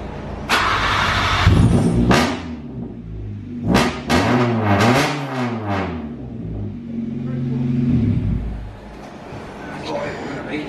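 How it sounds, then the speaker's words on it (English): A Honda Civic EJ9 fitted with a new full custom exhaust system cranks and fires up, then revs loud and harsh with popping, its engine note rising and falling close by before settling, while people talk over it. "he's going to turn the car on and see what it sounds like"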